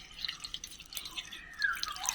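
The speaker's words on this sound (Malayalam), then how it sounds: "നമ്മുടെ ഈ വൈൻ എടുത്തതിന് ശേഷം നമ്മുടെ ഈ ഒരു വെള്ള തുണിയുടെ പുറത്തേക്ക് നമ്മൾ ഒഴിക്കാനായിട്ട് പോവുകയാണ്" Homemade bilimbi wine is poured through a white cloth, giving a light steady trickle and drip of liquid with no voices.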